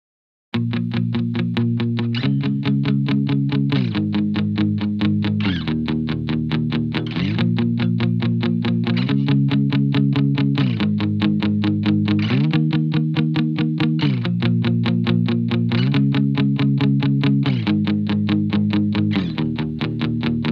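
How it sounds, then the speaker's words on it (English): A Fender Bass VI played clean through a Tone Master Pro stock preset, voiced as a guitar: steady strummed chords changing every couple of seconds, loud and continuous, with a slight chorus-like shimmer and no talking. "the basic sound, the stock sound, which is the when I want to use the Bass 6 as a guitar, and I want to use it clean"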